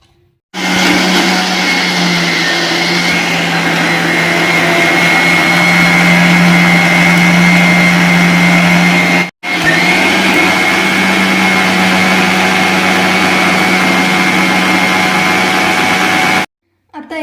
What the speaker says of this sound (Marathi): आता याचे मिक्सरमध्ये ज्यूस करून घेऊया